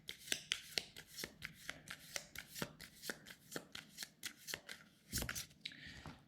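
A small stack of twelve game cards for the SpaceCorp board game is shuffled by hand, with a close series of rapid, rhythmic papery snaps and slaps that ends in a brief rustle.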